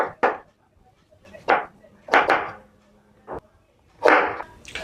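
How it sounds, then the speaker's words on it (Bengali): Boiled potatoes are chopped into pieces on a board for egg-potato pakora, with about six sharp knife strikes spaced irregularly, close and distinct, with no voices. "এখন আমি জুরি জুরি করে কাটি লিমু"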